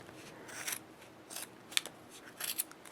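Scissors snip across a yarn pom-pom held in a Clover Pom-pom Maker, a handful of close, crisp cuts spaced irregularly with quiet pauses between, no voices.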